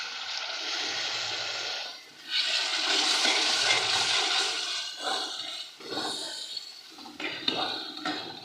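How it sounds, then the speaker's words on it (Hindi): Water is poured into a hot pan of frying aloo gajar masala, giving a loud rushing hiss that breaks into choppy, bubbling sizzles and spatters as the liquid hits the spices. "थोड़ा सा पानी ऐड करूँगी इसमें।"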